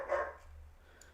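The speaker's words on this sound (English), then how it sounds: "I don't even know what she's barking at." A single dog barks once, a short muffled bark somewhat distant indoors, followed by quiet room hum and a faint tick.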